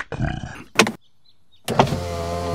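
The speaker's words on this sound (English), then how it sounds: "Would you like the roof down? Yes, please. I'll just press this red button." A cartoon convertible car's electric roof lowers after a button press: a loud motorised whir with a short pause, then a second sustained mechanical run, close and clear with no talk.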